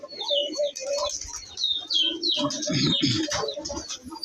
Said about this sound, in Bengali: এই যে একটা উড়াল দিয়ে এলো সাদা কবুতর